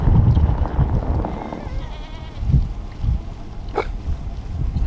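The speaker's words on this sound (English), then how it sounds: "There's all the goats." Several farm goats bleat outdoors on a snowy day, short wavering calls rising over steady wind rumble and low movement noise, with a brief higher cry near the end.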